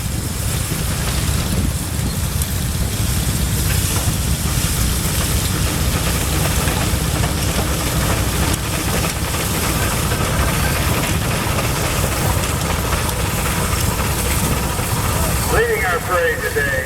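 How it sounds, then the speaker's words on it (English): A 20 horsepower Nichols and Shepherd steam traction engine chugs past in a tractor parade at a gas and steam show, a steady low mechanical rumble under continuous crowd and announcer talk, with a brief higher whistle-like tone near the end. "his Nichols and Shepherd traction engine, 20 horsepower"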